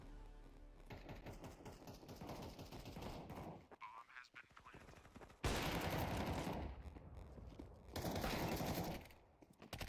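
Automatic gunfire in the Counter-Strike 2 video game rattles in rapid, loud bursts separated by short pauses, the sharp shots repeating quickly and sounding close throughout.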